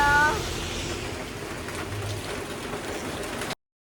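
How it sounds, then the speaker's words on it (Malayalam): Heavy rain pours steadily outside a tea shop, a dense even hiss filling the clip before it cuts off abruptly near the end. "നല്ല മഴയാണ് കണ്ടോ നല്ല മഴ"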